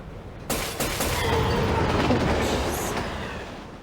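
A train rushes past in the video game Love and Deepspace: a sudden loud onset swells into a sustained roaring, rattling rumble with clattering wheels, then slowly fades over a few seconds, with no talk.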